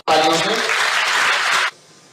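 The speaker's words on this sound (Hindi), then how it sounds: "सर का एक बार फिर से तो आप स्वागत तालियों से" A crowd applauds to welcome a speaker at an event about akhara traditions in Prayagraj, producing a dense, loud burst of clapping that lasts under two seconds and then cuts off abruptly.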